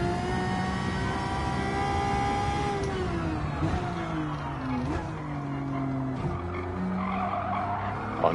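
A racing car in Gran Turismo 7 at Daytona understeers, its tyres skidding and squealing in a long continuous howl over a droning engine whose pitch slides down as it slows.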